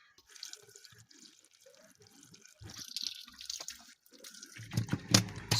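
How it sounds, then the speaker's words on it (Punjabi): Clean water runs and splashes over a battery as it is rinsed out, starting as soft trickles and drips, then growing into louder, uneven gushes and spatters near the end, with no talking. "ਇਸ ਤੋਂ ਪਹਿਲੇ ਇੱਕ ਵਾਰੀ ਫਿਰ ਇਹਨੂੰ ਸਾਫ਼ ਪਾਣੀ ਦੇ ਨਾਲ ਧੋ ਲੈਂਦੇ ਹਾਂ"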